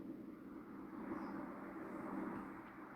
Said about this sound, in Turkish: Bu şekilde drone'umuzu kontrol edebiliyoruz.